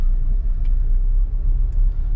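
Heavy bumper-to-bumper morning traffic in Accra, a steady low rumble of car engines close by, continuous and loud with no voices.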